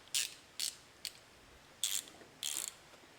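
A ratchet fitted with a 10mm socket clicks in five short bursts while loosening a bolt on a 2020 Toyota Tacoma, quiet and close with brief pauses between strokes.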